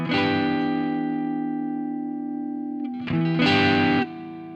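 Electric guitar through a Softube Marshall amp plugin set to a cleaned-up tone: a sustained ringing chord fades slowly, then a second strummed chord rings briefly and cuts off, loud and alone.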